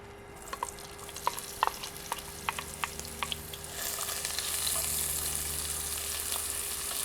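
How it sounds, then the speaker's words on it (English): Chopped onion sautés in oil in a pan for a green bean stew: scattered crackles and spoon clicks give way to a steady, fairly quiet sizzle that builds and holds to the end. "we want to saute the onion."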